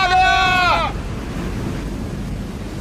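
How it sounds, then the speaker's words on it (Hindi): Stormy sea waves crashing in an animated scene: a steady roaring wash of surf with wind, briefly topped at the start by a high wavering cry before the rushing water continues alone. "समुद्री लहरें इतनी ऊपर उठकर हमारी तरफ आ रही हैं। लहरें बहुत तेज हैं।"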